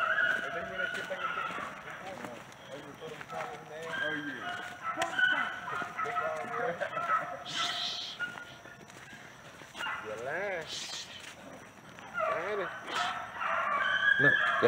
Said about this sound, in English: Look. That's your dog.